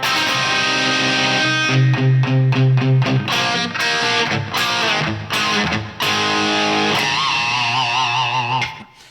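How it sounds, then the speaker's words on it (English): Distorted electric guitar playing a melodic line from a riff, with sustained bent notes and wide vibrato, including a squealing pinch harmonic bend near the end, loud and close. "Then what we have here is little pinch harmonic bend."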